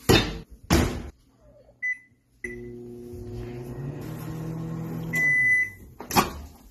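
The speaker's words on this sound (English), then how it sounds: "once you put it in the microwave and you warm it up" A microwave oven heating corn on the stalk: door clunks and a beep, then the steady hum of the oven running for a few seconds, followed by end beeps and another door thud.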